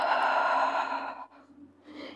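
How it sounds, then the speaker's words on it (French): A deep, warm exhale during a pilates exercise, a long breathy sigh that is loud and close, tapering off, with a brief softer breath following. "C'est une respiration chaude et profonde."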